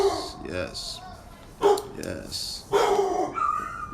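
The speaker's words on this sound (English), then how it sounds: "next door neighbor's puppy. He's a big puppy. And my puppy." A big neighbor puppy and another puppy barking in repeated yips and bow-wows at close range, in short bursts with whimpering between them.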